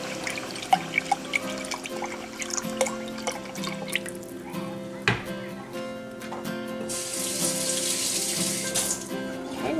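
Chicken broth pours into a pan in a home kitchen, a steady liquid trickle with drips and small clinks, close and fairly quiet, ending in a brighter splashing rush.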